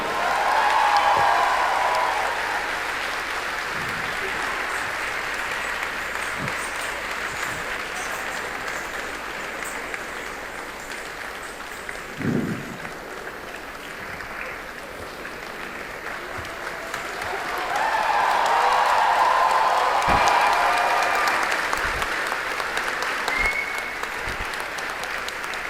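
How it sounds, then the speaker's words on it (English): An audience at a university cultural programme claps in sustained applause for the performers, swelling loudly at the start and again near the end, with a brief voice cutting in midway. "give a big round of applause to all the performers one more time"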